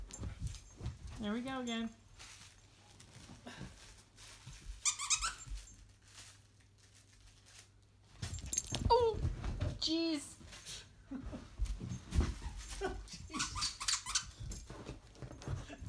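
A small dog whimpers and squeaks in short high bursts indoors in a home setting, mixed with people talking nearby and household background noise.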